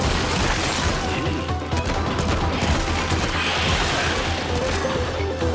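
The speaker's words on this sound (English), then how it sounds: "Emptying my weapons." Loud sustained video game gunfire as weapons are emptied, a dense continuous barrage of rapid shots and crashing impacts that stays steady and close with no break.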